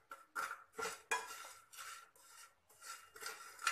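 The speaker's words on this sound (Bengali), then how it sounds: "ম্যাগিটা আমি এখানে শুকনো একটু ভেজে নেবো।" Dry Maggi noodles being roasted in a pan without water, heard as repeated scraping and clinking strokes of a utensil against the metal in a steady rhythm, close and fairly quiet, with no voices.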